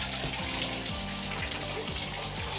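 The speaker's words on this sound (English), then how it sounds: "We want to turn the water on." Water runs steadily from a bathroom shower fixture, a continuous loud rush of spray that fills the whole clip with no pauses and no talking.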